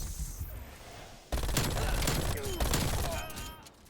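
MAC-10 submachine gun fire in the video game Black Ops Cold War on the Satellite map, with a loud, dense burst of rapid shots cutting in after a quieter start and fading slightly toward the end.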